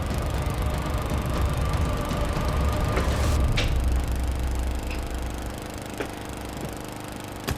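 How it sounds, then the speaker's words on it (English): A lawnmower engine drones steadily at close range with a low rumbling hum, a few clicks and knocks over it, easing slightly toward the end. "keep that lawnmower running"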